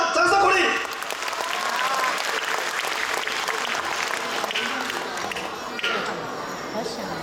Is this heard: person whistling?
no